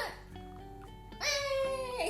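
A voice imitates the small cry of a newborn baby delivered by caesarean section, a short series of thin, wavering, babbling cries, brief and close.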